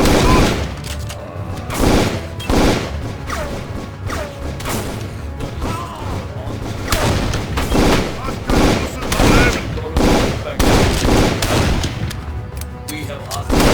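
Heavy gunfire in a firefight in the video game Darkest of Days, with rapid overlapping rifle and machine-gun bursts cracking repeatedly and some booming blasts, loud and close, and voices shouting amid the shooting.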